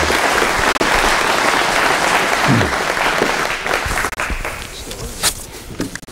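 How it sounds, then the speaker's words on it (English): Dense audience applause for a speaker at a boat racing talk, a full wash of clapping that holds steady and then thins out toward the end, with a few voices underneath. "So just give him a round of applause for all he's done for the sport, Ron Jones."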